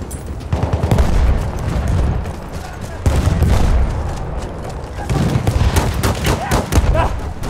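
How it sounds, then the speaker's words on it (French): An enemy machine gun rattles in Battlefield 1, loud, dense bursts of automatic fire that roll on almost without pause, with booming reports layered through the volley. "mitrailleuse ennemie"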